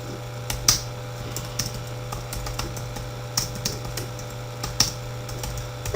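Scattered keystrokes on a computer keyboard while writing a text document, soft irregular clicks over a steady low electrical hum, no talking.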